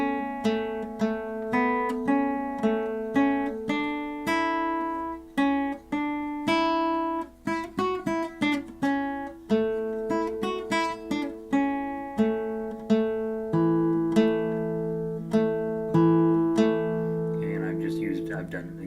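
Fingerpicked guitar played with thumb and three fingers, a bright sequence of plucked notes and ringing chords in a steady rhythm, close and clear without talk.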